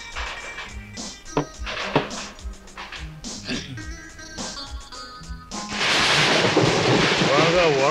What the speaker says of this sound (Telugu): బాగా వర్షం వస్తుంది